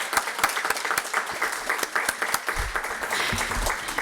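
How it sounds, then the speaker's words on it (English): Audience applause at an evening student pitch showcase, a steady wash of many hands clapping throughout, fairly close and dense, with no speech over it. "Let's give our students a round of applause."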